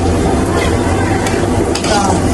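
Prawns fry in a home kitchen pan, giving a loud, steady sizzle close up, with the scrape of stirring now and then and no talk over it.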